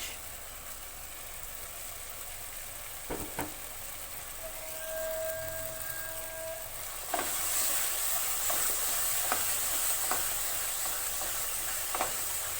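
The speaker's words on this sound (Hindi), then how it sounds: "अब 3 से 4 मिनट तक इसको भूनेंगे हम मुसलसल" Brinjal bharta roasting in a pan gives a steady sizzling hiss, with a few sharp scraping clicks from stirring and a brief tonal whine midway, the hiss brightening after the halfway point.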